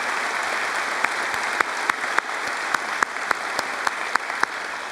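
A large graduation crowd applauds for students who took AP exams, steady dense clapping filling the hall for several seconds, with sharper individual claps popping out near the recording point.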